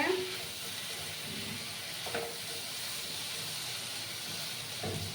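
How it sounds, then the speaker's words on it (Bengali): Masala fries in oil for a shrimp and jackfruit seed curry, giving a steady, even sizzle and hiss that runs throughout with a few faint clinks. "দেখো আমার ইয়েটার থেকে মশলা মশলাটার থেকে তেল ছাড়তে শুরু করেছে"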